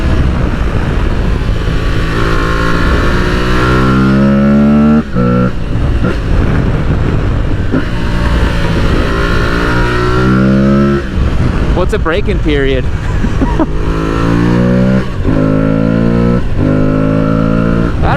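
Aprilia Tuareg 660 motorcycle being ridden hard on a road, the engine revving loud and rising through the gears in repeated accelerating pulls, with wind noise and a rider talking over it.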